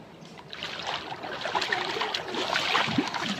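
A child swimming in a pool makes waves, giving a continuous wash of splashing and sloshing water that grows slightly louder toward the end, with faint distant voices in the background.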